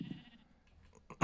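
A sheep bleats in the Minecraft video game, a quiet low bleat at the start followed by a sharper, brighter bleat at the end of the short clip, with no talking.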